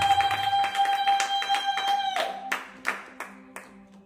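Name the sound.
congregation clapping and acclaiming in church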